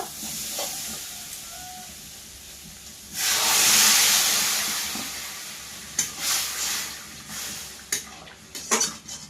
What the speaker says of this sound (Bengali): জল দিয়ে দেব।